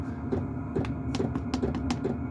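A Chinese diesel heater's fuel pump ticks in a quick, regular series of faint clicks in a workshop, with the fan turned up and a low hum running steadily underneath.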